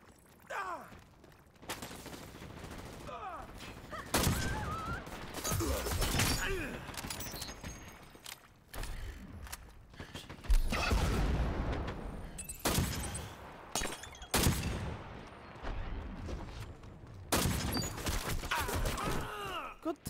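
Submachine gun fire in the Dirty Bomb video game, loud bursts of rapid shots and breaking impacts separated by brief lulls, with occasional voice beneath.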